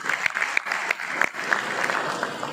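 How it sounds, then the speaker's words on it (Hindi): A crowd at a government employees' conference in Sri Ganganagar, India, claps steadily and fairly loudly, a dense patter of hand claps with no talking over it. "एक बार जोरदार तालियां बजा करके इनका सम्मान करें"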